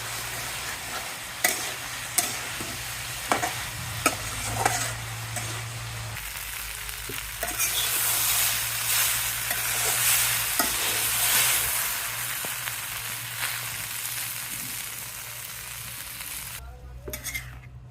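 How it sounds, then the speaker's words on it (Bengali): Spices sautéed and stirred in a pan, a continuous frying sizzle with regular scraping and tapping strokes of the spatula, close by, with a low steady hum underneath and no speech. "সব মশলা দিয়ে দিলাম এখন কষিয়ে নিলাম"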